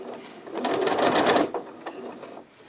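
Close by, a sewing machine stitches a zippered pouch with the presser foot as a guide: one second-long whirring run, then a few brief, softer stitch bursts before it goes quiet.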